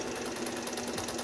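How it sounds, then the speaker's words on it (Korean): A Brother 4010 home sewing machine runs steadily after repair, a faint, fast, even mechanical stitching whir with regular ticking, heard alone without talk. "페달을 밟았을 때 스무스하게 출발하지 않으면은 야 딱딱 어디 걸리고 하면은 수리가 잘못된 겁니다"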